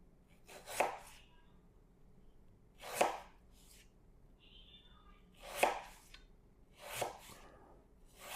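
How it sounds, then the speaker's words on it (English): A knife slices through peeled potatoes on a board, four separate crisp cuts spaced a couple of seconds apart, close and clear against a quiet background. "Then we'll just slice them up"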